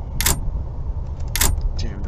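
Two short metallic rattles of a locked door being tried in the Ao Oni horror game, spaced about a second apart, over a low constant rumble of background ambience.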